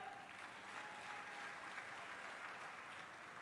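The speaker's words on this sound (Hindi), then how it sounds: "अरे तालियां बजाओ।" An audience at a political speech in Gwalior by Union Minister Scindia claps, a faint, distant, steady wash of applause with no voices over it.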